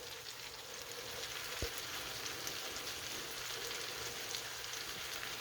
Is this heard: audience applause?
no